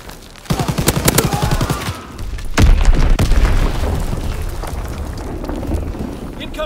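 Enemy artillery shells hit during a Hardpoint match, starting with rapid machine-gun bursts and then a heavy, close explosion followed by a long rumbling roar that slowly fades.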